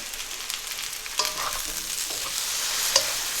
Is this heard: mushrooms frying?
yes